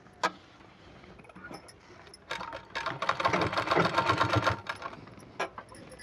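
A sewing machine stitches a folded hem on palazzo pant fabric, running in a close, steady burst for about two seconds between softer handling clicks, with no talking.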